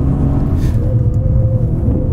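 A Mercedes-AMG C 63 S laps a race track, its engine holding a steady, close, rumbling drone from start to finish, with no talk over it.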